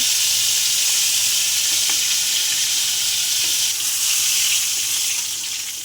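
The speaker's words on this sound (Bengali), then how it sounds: "ভেজে নেব, লাল করে ভেজে তুলে নেব" Whole Bombay duck (lote) fish coated in spices fry in hot oil until reddish, giving a loud, continuous close sizzle that eases slightly toward the end, with no talking.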